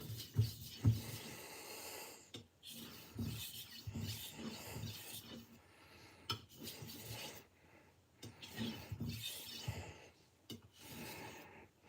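A kitchen knife is sharpened with a series of rasping strokes, quiet and close, the scraping bursts coming in an uneven rhythm with short pauses between them.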